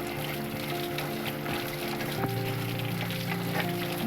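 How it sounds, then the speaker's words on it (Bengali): Spring onions get rinsed under running water in a home kitchen, a steady trickling splash with faint clinks and rattles from handling, fairly quiet and continuous with no talking. "এবার পেঁয়াজকলিটা ধুয়ে নিচ্ছি, ভালো করে"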